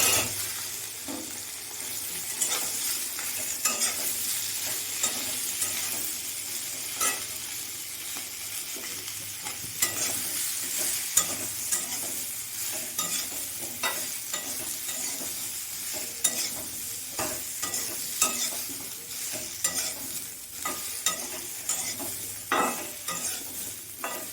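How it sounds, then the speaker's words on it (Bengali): Mixed vegetables frying with already browned soybeans in a pan for spiced khichuri, a soft continuous sizzle with frequent light scrapes and taps of a spoon, steady and moderately close, with no voices. "সবজিটা আমি একটু ভেজে নেব অল্প করে"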